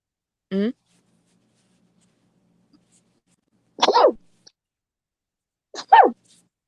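A sharp sneeze rings out, followed a few seconds later by two more sneezes close together, with quiet stillness in between.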